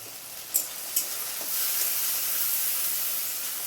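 Red chili powder hits hot oil with a broad, steady sizzle and hiss. Two soft clinks come first, then the frying noise swells slightly and holds at a moderate level.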